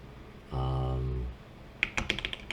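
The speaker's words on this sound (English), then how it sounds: "And here I'm going to type out" A brief burst of keystrokes on a computer keyboard follows a short steady tonal hum, the clicks close and crisp, with no one talking.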